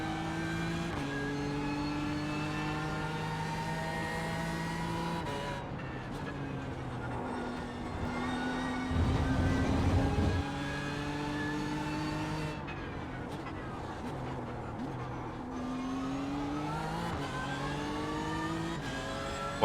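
A GT3 race car engine in the iRacing sim at Hockenheim, howling through rising gear sweeps, dropping with shifts and braking mid-lap, then climbing again, loud and continuous with no talk.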